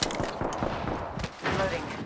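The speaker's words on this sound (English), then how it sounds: "Getting shot at" Rapid gunfire in Apex Legends, a dense spray of shots running through the whole moment with a brief lull before a fresh burst, mixed with game effects and chatter underneath.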